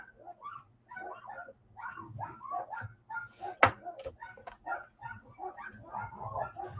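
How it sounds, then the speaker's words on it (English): Dogs whine and whimper almost continuously, with short yips and one sharp, loud bark near the middle, all close by and with no talking over them. "The dogs are really on one today."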